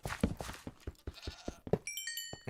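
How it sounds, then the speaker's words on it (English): A goat bleats in a video game, several short, fairly close cries in a broken rhythm, followed by a bright chiming game tone near the end. "I hear another friendly goat."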